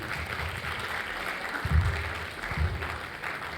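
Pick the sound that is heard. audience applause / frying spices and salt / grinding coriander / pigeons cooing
audience applause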